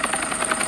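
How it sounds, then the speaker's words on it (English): A helicopter in the Roblox game Redwood Prison whirs with a fast, even rotor chop and a thin high whine, close and steady throughout. "Actually, this is a pretty cool helicopter."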